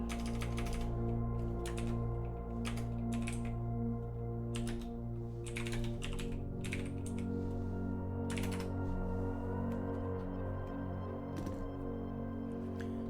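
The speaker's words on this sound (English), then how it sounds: "Just type a message." Rapid keystrokes on a computer keyboard clatter in irregular bursts as a message is typed, crisp and close, over a steady tonal music bed.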